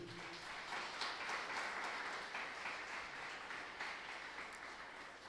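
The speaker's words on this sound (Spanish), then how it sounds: "Denle un fuerte aplauso al Señor." A church congregation applauds during a sermon, a dense, even wash of many hands clapping together, fairly distant and soft, held steadily for several seconds.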